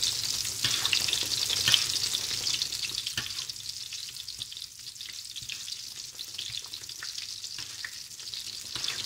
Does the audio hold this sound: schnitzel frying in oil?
yes